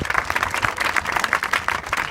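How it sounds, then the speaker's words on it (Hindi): An audience claps for a girl named Diksha, producing a dense, even patter of many hands that holds steady for about two seconds at moderate loudness, with no talking over it. "दीक्षा के लिए जोरदार ताली बजाओ"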